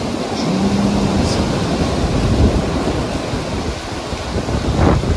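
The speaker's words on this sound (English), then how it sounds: "Ooh, that's a gust." A strong, steady roar of wind fills the clip during a December derecho storm in Iowa, with sleet falling, swelling into a louder gust near the end, with a broadband rush like stormy weather.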